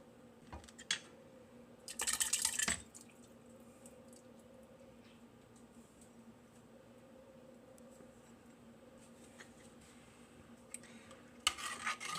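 A spoon scrapes and clinks around a pot of soup in two short bursts, one early and one at the end, over a steady low kitchen hum and otherwise quiet surroundings.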